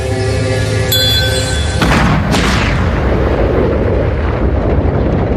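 A huge explosion of an apple made of antimatter: after a ringing tonal lead-in, a deep booming blast erupts and rolls on as a sustained, loud roaring rumble with no speech.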